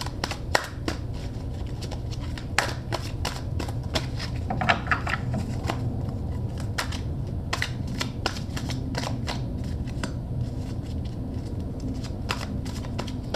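Tarot cards being shuffled by hand, a steady papery riffle and flutter with quick snapping card edges, close and continuous throughout.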